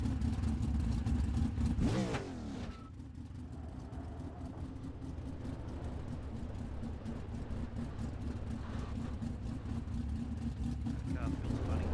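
Non-wing 410 sprint car engine in iRacing, revving hard with a sharp rising sweep early, then a steady droning engine note for the rest, under talk.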